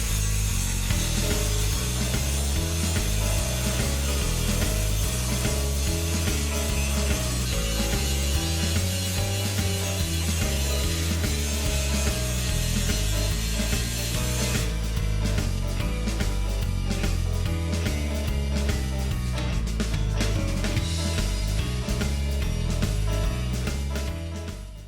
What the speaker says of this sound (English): we had to carefully grind down all the high spots without thinning out the surrounding material